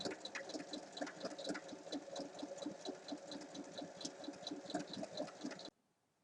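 A sewing machine stitching around the sides of a fabric health-book cover, a quick, even rhythmic chatter of the needle running steadily for several seconds, then stopping abruptly into silence.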